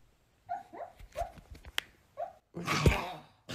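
A sleeping dog in a bad dream gives a series of short, high whimpers and muffled yips in separate bursts, close by, ending in a louder breathy huff.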